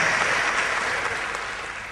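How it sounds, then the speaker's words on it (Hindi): Steady applause welcomes a guest on a live radio talk show from Indore, a dense, even wash of clapping that fades slightly toward the end, with no voices over it. "तो आपका भी इन चंद तालियों के साथ हम करते हैं स्वागत"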